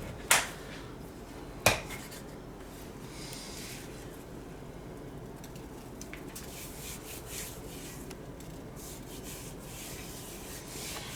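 Taco seasoning being rubbed by hand into a chuck roast, soft continuous rubbing and patting textures at low volume, with two sharp clicks near the start and no talking.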